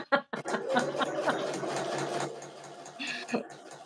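A domestic sewing machine stitching fabric for a boxy bag, a close mechanical whirring run with rapid needle ticking that stops partway, followed by brief breathy sounds and a short laugh.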